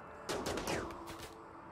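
Charge rifle fire in the colony sim RimWorld, a quick string of several sharp energy shots in rapid succession followed by a fading tail, heard fairly quietly against a steady background.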